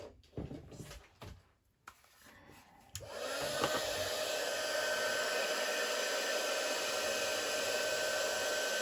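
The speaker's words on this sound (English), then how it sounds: "Okay, so now we're going to heat set these. That's our copper." A heat tool used to heat-set copper embossing powder switches on after some handling clatter, then blows with a steady, close, high whirring roar.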